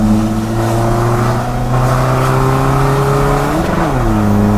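An old Isuzu D-Max pickup, turbocharged and remapped, revs hard and loud up close: a sustained high engine drone climbs gradually, then drops and surges again near the end, with no talk.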